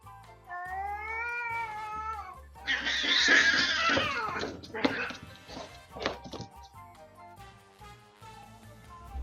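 A cat lets out a drawn-out, wavering meow, followed by a burst of hissing, thumps and scuffling, then more short cat cries, over background sound.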